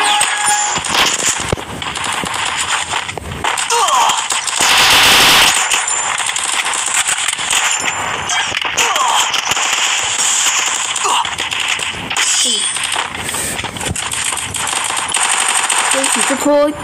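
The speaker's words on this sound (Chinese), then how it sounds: "枪声真的有一点点讨厌" Machine gun fire in a shooting video game rattles in rapid, dense bursts for a long stretch, loud and close, mixed with crackling effects and frequent overlapping talk from players.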